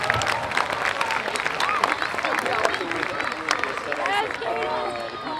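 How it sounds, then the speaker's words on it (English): Sustained applause from an audience at a university homecoming science carnival, dense, steady clapping filling the whole stretch, with cheers and crowd voices mixed in. "let's give a round of applause for them doing this"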